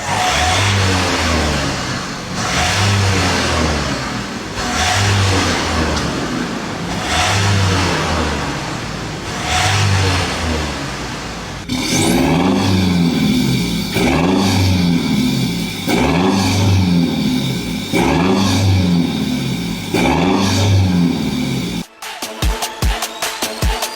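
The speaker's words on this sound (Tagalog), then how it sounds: "Pakinggan naman natin ngayon yung kaninang stock pa yung exhaust, yung sound check niyan." A Ford Everest exhaust is revved repeatedly, first on the stock system and then with a Spitfire Thunder muffler and MagnaFlow tip, each rev a loud, close engine surge rising and falling in steady cycles.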